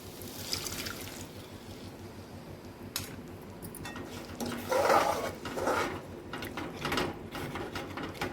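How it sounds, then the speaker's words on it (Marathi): Water splashes into a pot of pigeon pea curry, a short burst of pouring and gurgling over a quiet background hum, followed by a few scattered clinks nearby. "तर हे पाणी थोडंसं आपण त्याच्यात टाकून त्याला व्यवस्थित उकळ येऊन देऊया आपण"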